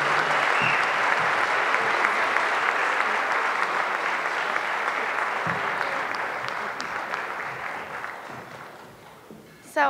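Sustained audience applause at a queer youth leadership awards ceremony, a dense, loud wall of clapping from a large crowd that holds steady for several seconds and then gradually thins out.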